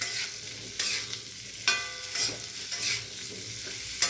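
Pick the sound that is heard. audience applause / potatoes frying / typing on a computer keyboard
potatoes frying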